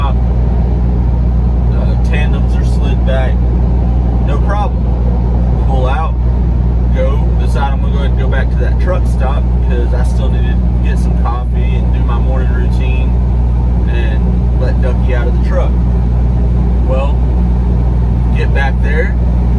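Semi truck with tandems slid back pulls away from a loading dock, a loud constant low diesel rumble filling the cab, with scattered clicks and rattles over it.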